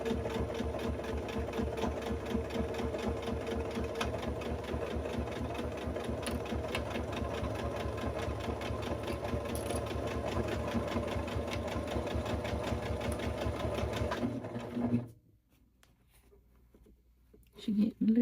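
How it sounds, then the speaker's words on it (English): A sewing machine runs steadily for about fifteen seconds, stitching a quilting-width seam on a porch goose costume with backstitching at the start and end, then stops abruptly. "we're gonna backstitch at the beginning and the end just to"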